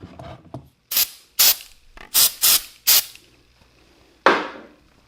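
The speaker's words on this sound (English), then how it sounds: "Quick silicone spray hit." Short, sharp hissing bursts from a silicone spray can, about six quick squirts in a loose rhythm, then a pause and one final longer spray, close up, while working on a Kawasaki KZ400 motorcycle.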